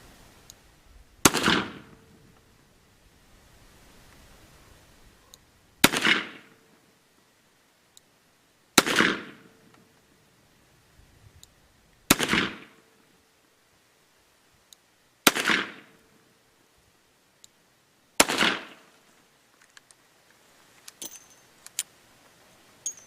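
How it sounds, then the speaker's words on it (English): Six sharp revolver shots from a stainless Colt Python .357 Magnum with a 4-inch barrel, fired double action at a target, spaced a few seconds apart, each a loud crack with a brief ringing tail over quiet surroundings. "I'll shoot this thing double action now at my target"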